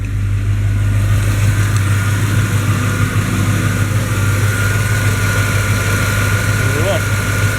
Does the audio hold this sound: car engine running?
yes